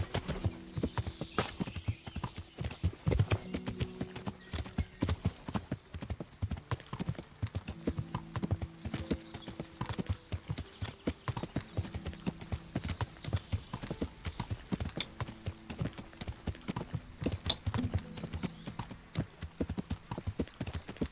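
Horse hooves clip-clop steadily in a knight video game, a continuous rhythmic trot with occasional faint whinny-like tones, moderately loud and without speech.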